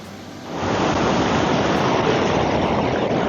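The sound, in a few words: strong deep river flowing under a bridge in Pokhara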